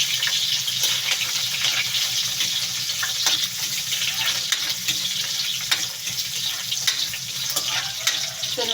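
Onion frying in a pan for chicken liver and gizzard igado makes a loud, dense crackling sizzle with scattered sharp pops and stirring clatter throughout, and no talking.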